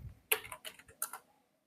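Computer keyboard being typed on, a short burst of about six crisp clicks spaced unevenly, close and fairly quiet, then silence.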